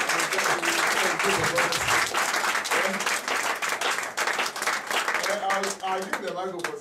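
A church congregation claps and applauds steadily throughout, a loud sustained wash of many hands close by, with voices calling out beneath it.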